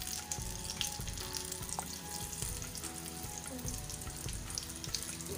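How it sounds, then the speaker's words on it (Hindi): Chicken pieces frying in hot oil over a low flame, a steady dense sizzle and crackle running unbroken throughout, close and even with faint clinks. "हमें चिकन को लो फ्लेम पे फ्राई करना है"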